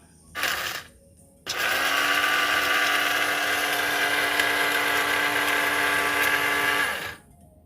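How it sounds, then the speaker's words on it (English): Blender grinding chana (chickpeas): a short burst of whirring, then a loud, steady motor whine running for several seconds before cutting off, close and alone with no talking. "So first I will grind my chana."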